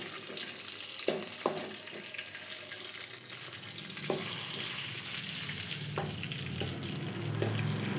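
Green chilies and curry leaves fry in a pan for carrot rice, a faint, steady sizzle with a few sharp clinks and stirring knocks of a utensil against the pan, and no talk.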